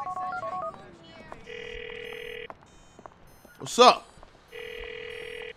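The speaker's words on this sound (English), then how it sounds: "Call the blackmailer's number." Two long electronic phone ringback tones sound in GTA 4 gameplay while a player calls a blackmailer's number in the story mode, split by a short spoken exclamation, with faint talk before.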